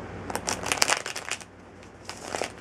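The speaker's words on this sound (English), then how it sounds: "And I'm shuffling your cards." A deck of Gilded Tarot cards being shuffled by hand at close range, with bursts of riffling and soft slapping that come in quick clusters, a short pause, then a final riffle.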